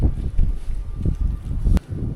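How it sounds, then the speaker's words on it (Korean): Strong outdoor wind buffets the microphone in low, gusty rumbles at a countryside spot where horses are being fed, with a single sharp knock near the end. "오 바람이 세다"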